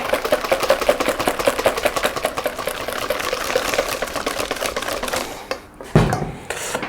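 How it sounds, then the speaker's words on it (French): Chocolate coffee cake batter is whisked in a bowl in quick, even, rapid strokes that tap steadily for several seconds, then pause and end with a couple of louder knocks. "Donc là, vous fouettez une dernière fois"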